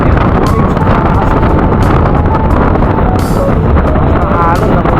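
Loud, roaring wind buffets the microphone with a constant rumble, and waves rush beneath it, out on rough open sea during a storm.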